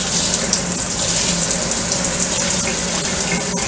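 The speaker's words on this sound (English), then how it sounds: "So I just use cold water, and I just rinse it" Cold tap water runs steadily and loudly over raw beef being rinsed for a pot roast, a continuous close gush with no talk.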